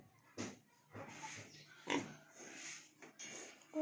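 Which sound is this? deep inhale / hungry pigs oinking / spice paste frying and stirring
hungry pigs oinking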